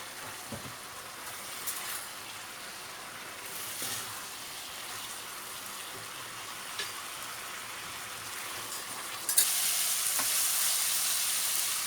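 Carrot halwa with condensed milk frying and being stirred in a pan, a steady soft sizzle with occasional scraping stir strokes, brightening and louder near the end, no talking.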